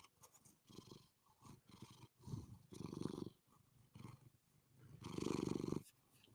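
A domestic cat purrs right up against a microphone, a close, rumbling purr that swells and fades in uneven waves with each breath, loudest near the end, with no talk over it.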